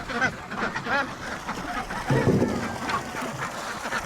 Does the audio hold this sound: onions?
no